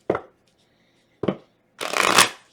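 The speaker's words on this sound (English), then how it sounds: "let's get this good shuffle again." Three quick bursts of tarot cards being shuffled, two short riffles followed by a longer, louder cascade, close by with no talking.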